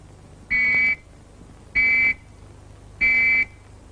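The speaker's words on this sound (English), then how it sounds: "Or 3 whistles like this." Three identical steady warning whistle blasts signaling expected fallout, each about half a second long, evenly spaced with short pauses, loud and clear over a faint background hum.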